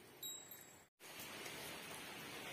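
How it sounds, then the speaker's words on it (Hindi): Steady rain falling outside in rural Himachal Pradesh, an even, dense hiss throughout with one short break, no voices. "बाहर बारिश हो रही है"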